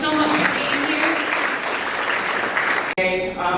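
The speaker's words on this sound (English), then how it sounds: "please give yourselves another round of applause" A live audience claps in a steady, dense round of applause, loud and continuous for several seconds with a brief dip near the end.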